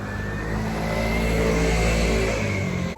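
A motorcycle passes on a street in Fukuoka, Japan, its engine loud and close with a steady, building roar that holds for the whole stretch before cutting off abruptly at the end.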